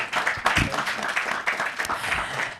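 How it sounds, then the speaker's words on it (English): Live audience applause greeting Christopher Slattery, an international teacher, at an English-language show event with the American International School of Bamako; a steady burst of clapping fills the moment, with some voices mixed in. "Big clap for Slattery, please"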